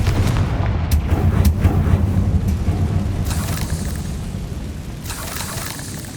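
A fiery blasting spell goes off in a wizarding video game, bursting into booming, rumbling explosions and sharp cracks that rise over a low sustained roar before fading.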